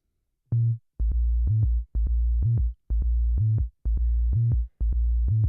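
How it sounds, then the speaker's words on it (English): A deep synth bass plays short, separated notes in a repeating pattern, each cut off before the next, loud and dry with nothing else playing. "If it was just in mono mode, it sounds like this."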